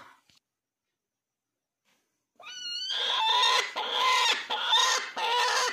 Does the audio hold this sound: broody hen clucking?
yes